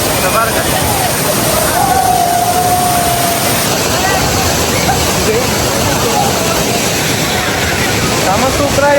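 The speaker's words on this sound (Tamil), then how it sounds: "கைஸ், ஃபால்ஸில் செம்ம தண்ணி வருதுங்க" Thiruparappu waterfall in heavy flow roars loudly and continuously, a constant broadband rush of water close by, with faint crowd chatter mixed underneath.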